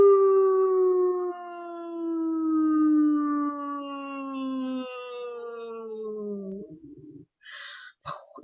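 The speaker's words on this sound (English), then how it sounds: "You might hear my dog in the background because he really likes singing too." A dog howls along with a person singing, sustained tones sliding slowly downward, then breaks into a few short yelps at the end.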